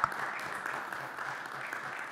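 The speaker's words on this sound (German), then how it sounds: "Kräftiger Applaus für unseren Gast." An audience at a scientific lecture on consumer health protection gives applause for a guest, a fairly faint, even patter of many hands lasting a couple of seconds.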